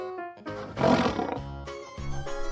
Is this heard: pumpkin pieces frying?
no